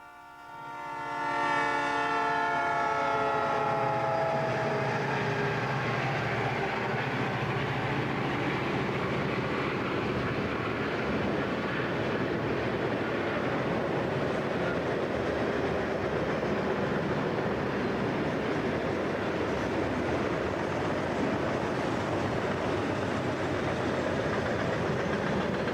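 Southern Pacific southbound freight train passing, a continuous loud rumble and roll of cars with a horn blast at the start, sustained throughout without voices.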